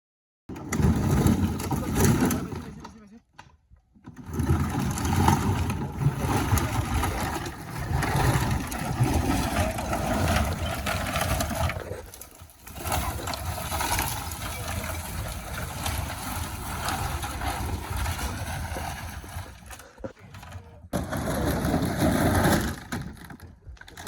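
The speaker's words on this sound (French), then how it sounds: "Le moteur il peut lâcher là" A Peugeot 205's engine runs while the car is stuck with a wheel jammed against a wall. The steady, loud roar is broken by a few brief cut-outs, with people's voices faintly mixed in.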